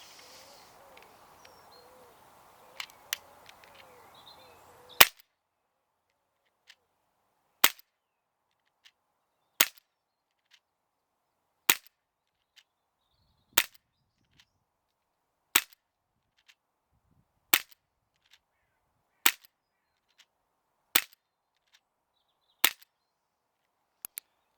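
Sig Sauer P320 air pistol firing ten shots outdoors, sharp dry cracks spaced about two seconds apart after a faint background of ambient noise, each pop loud and short against near silence.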